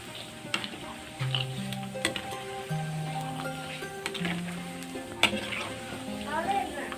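Pieces of pork fat or pork skin crackle and sizzle in hot oil for a northern Thai dish, with a busy continuous hiss, occasional sharp pops and stirring scrapes, no voices.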